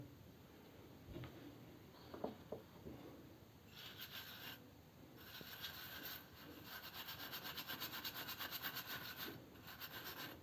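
Scrubbing and rubbing while polishing the inside of a blackened stove burner, faint steady abrasive strokes that grow into a quicker rhythmic rasping toward the end.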